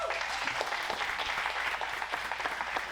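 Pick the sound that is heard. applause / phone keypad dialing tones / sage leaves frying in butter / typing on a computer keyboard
applause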